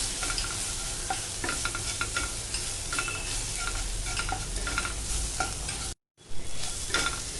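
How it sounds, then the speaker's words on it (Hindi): Spices and sambar masala roast in a hot pan while being stirred, giving a steady close sizzle with scraping strokes throughout, broken by a brief silent gap near the end. "मसालों को 2 से 3 मिनट तक अच्छे से सेकना है"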